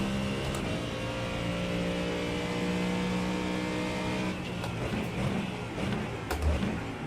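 A GT3 race car engine lapping Sebring in iRacing, a loud steady drone with strong harmonic whine that rises as it revs, then breaks into rougher shifts and bumps near the end.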